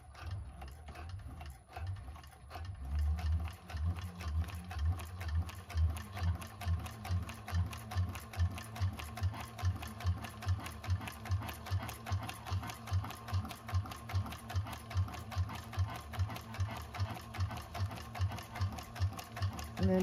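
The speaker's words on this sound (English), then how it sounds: "And then we're going to top stitch it." A 1341 cylinder-arm industrial sewing machine top-stitches a bag with a rapid rhythmic mechanical chatter of needle strokes. The pace picks up after a slow start and keeps a steady fast beat for nearly twenty seconds, close and clear.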